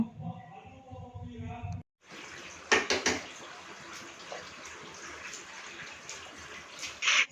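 Tap water runs steadily while peeled eggs are washed, following a brief stretch of talking, with a couple of louder splashes breaking the flow.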